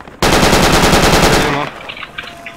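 Automatic gunfire in the military shooter Project Reality, a loud close burst of rapid shots lasting over a second, then fading into distant scattered pops.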